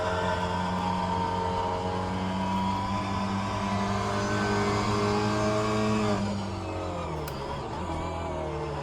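A Mini Cooper race car engine in the rFactor 2 racing game, running at Sebring club circuit, howls at sustained high revs, then drops pitch as it downshifts near the end.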